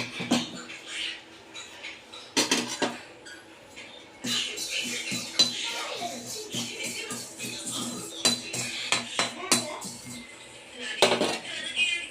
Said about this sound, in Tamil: இப்போ இது மூணையும் சோம்பு சீரகம் வெந்தயம் மூணையும் வறுத்துருவோம்